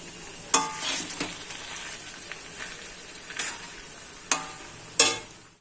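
Mixed fried rice stirred in a hot pan gives a soft steady sizzle broken by several sharp scraping clacks of the spatula against the pan, spaced irregularly.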